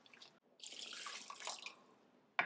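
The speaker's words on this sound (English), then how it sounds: "Add a bit of water." Water is poured into a paneer curry gravy as a brief, close splashing pour of about a second, followed by a small clink at the end.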